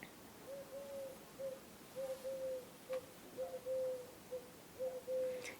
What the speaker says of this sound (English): we are lucky to hear this little bird